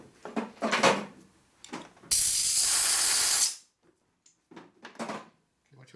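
Compressed air hisses loudly for about a second and a half as it blows out a hole in a Harley shovelhead motor part, with a garage voice talking before and after.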